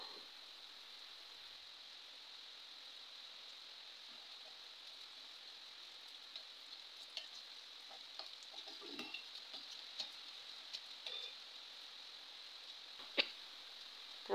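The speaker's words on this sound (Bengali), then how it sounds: "ডালের মধ্যে শুকনো লঙ্কা, তেজপাতা আর গোটা জিরা দিয়ে দিলাম।" Dried chillies, bay leaf and whole cumin sizzle in hot oil as they are tempered into dal, a steady faint frying hiss with scattered small crackles and pops.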